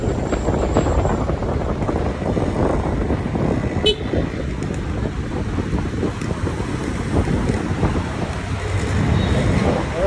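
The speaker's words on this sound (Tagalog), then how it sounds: "Uy, lakas ang hangin." Strong wind buffets the microphone during a drive through Alabang traffic, a continuous rough roar and rumble with faint vehicle sounds beneath it throughout.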